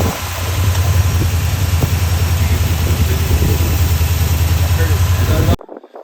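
A Ford 7.3 liter Godzilla V8 truck with a spark plug issue runs at a steady, loud idle close by, its low throbbing rumble constant until it cuts off abruptly near the end.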